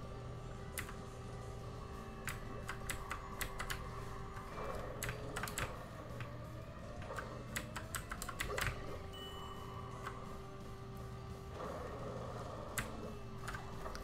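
Computer keyboard keys tap out in quick irregular bursts as someone plays a Nickelodeon kart racing game on PC, the clicks close and crisp over a steady game soundtrack hum.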